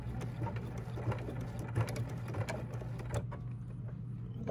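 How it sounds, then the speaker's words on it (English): A sewing machine runs close by while backstitching on fabric for a machine cover, a steady mechanical whir with rapid stitching clicks throughout and no talking. "So let's drop the needle and then I'm going to backstitch."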